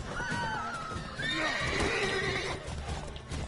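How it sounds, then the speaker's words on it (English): Horses whinny in The Witcher 3: Wild Hunt, with a long neigh rising and falling over clip-clopping hooves and busy game noise. "Watch out for the horses, dude."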